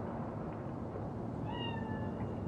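A cat spirit in the video game Cyberpunk 2077 lets out a single drawn-out meow, fairly clear over a low ambient rumble.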